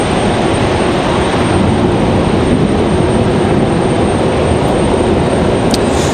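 A Southwest Airlines jet arriving from Nashville at Raleigh-Durham International, heard as a continuous, loud, even wash of engine roar with no break.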